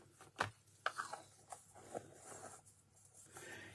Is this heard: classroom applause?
no